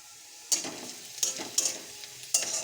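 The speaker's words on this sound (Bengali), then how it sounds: "পেঁয়াজটা ভাজা হয়ে গেছে" Onions fry in a pan with a soft background sizzle, broken by four sharp scraping stirs of a spatula at uneven intervals, close and fairly loud, with no speech.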